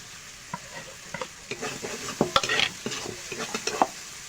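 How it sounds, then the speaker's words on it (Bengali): Masala sizzling and frying in a pan with cumin-coriander paste and chilli powder, stirred in short scraping bursts with a steady crackle underneath, close and moderately loud, no voices. "মশলাটা একটু কষিয়ে নিয়েছে, এবার দিয়ে দেবো জিরে ধনে বাটা, দিয়ে দেবো লঙ্কা গুঁড়ো"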